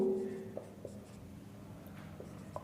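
Pen or marker writing on a board or paper during a chemistry lesson, a soft scratchy stroke sound with a few light taps, close and quiet, no voice.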